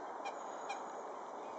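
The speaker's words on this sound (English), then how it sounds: "Here's 2 ducks that have mated" Two quick honking duck calls, faint and somewhat distant, over a soft outdoor background hiss at Broad Water, Moira, County Down.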